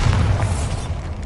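Deep booming blast of the Bombarda explosion spell in Hogwarts Legacy, a dense low rumble sustained through the short clip, loud and close.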